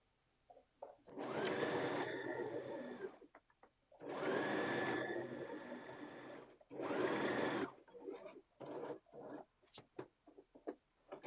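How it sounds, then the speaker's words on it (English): A sewing machine stitches a shirt collar in three runs of fast, steady motor whirring with needle clatter, each lasting one to three seconds, followed by scattered clicks and handling sounds. "I'm going to make sure that I sew on this line"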